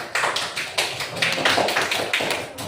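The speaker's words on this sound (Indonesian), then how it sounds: "Tepuk tangan untuk kelompoknya Dinda" A classroom of students applauds a student group at a teacher-training performance session, a dense, steady patter of many hands clapping close by for a few seconds.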